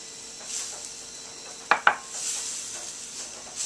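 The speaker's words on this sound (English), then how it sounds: "We'll just do this nice quick little saute for about 3 to 5" Apples sautéing with butter and spices in a pan, giving a soft steady sizzle with two sharp utensil clinks against the pan midway.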